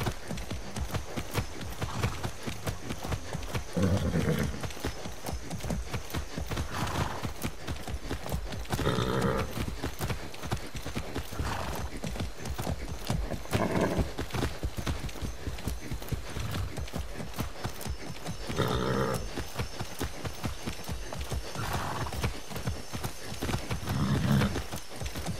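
A horse in Far Cry 6 gallops with steady, rapid clip-clop hoofbeats on firm ground, continuous and close, with occasional snorts and breathy bursts.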